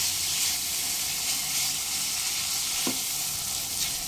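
Tomatoes with a little salt fry in a pan over medium flame, a steady bright sizzle and hiss throughout, with a single soft stir or scrape midway.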